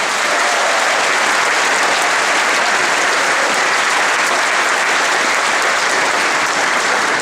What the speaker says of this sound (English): A round of applause for that contingent from Rolla.